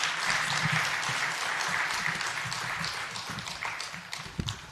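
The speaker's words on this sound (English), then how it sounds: "Can we give them a round of applause, please?" An audience at the launch of the 22nd edition of the Malawi Economic Monitor applauds a panel with steady, dense clapping that carries on for several seconds and thins slightly toward the end, with no talk over it.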